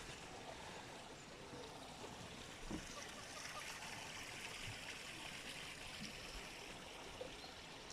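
Water springs up and trickles at Gökpınar pond near Gürün, Sivas, a soft, steady outdoor burble with faint splashes, heard from a short distance.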